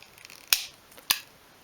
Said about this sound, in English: just sort of begin at a corner with the cutters. And we're just going to snip in sort of small sections